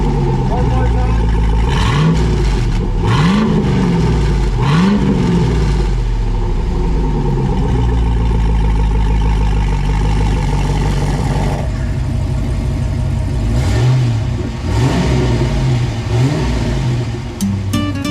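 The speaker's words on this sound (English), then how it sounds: "Give it some revs." Revving from an LS V8 swapped into a Toyota FJ62 fitted with a new exhaust and QTP cutout, heard in a shop: several loud blips rising and falling over a constant deep rumble, close to the microphone.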